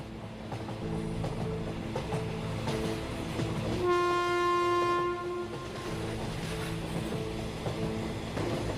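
A train rolls steadily across a river bridge, its low rumble and rattle continuous throughout, with a long, loud horn blast sounding in the middle and no talking.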